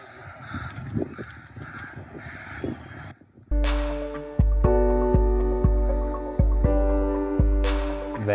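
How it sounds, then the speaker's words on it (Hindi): A flock of crows caws repeatedly on a steep forest trail to a waterfall near Nagni village in Himachal's Tirthan Valley. The harsh calls overlap for about three seconds before giving way to sustained musical tones. "और ये रहा कौवों का झुंड।"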